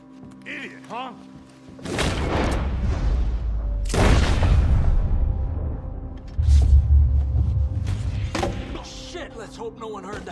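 Gunshots in a Red Dead-style robbery ring out as two loud booming blasts with rumbling tails, plus a later heavy thud, while someone talks between them.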